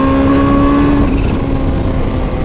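Kawasaki Ninja H2 supercharged motorcycle revving hard in third gear, a loud close engine roar whose whine climbs steadily for the first second, then breaks into a dense rumbling drone as traction control cuts in.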